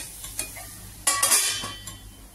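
Pumpkin chunks cook in a little oil in a pan over a slow flame. A short burst of sizzle comes with stirring scrapes and a couple of metallic knocks from the spoon, all close and without talk.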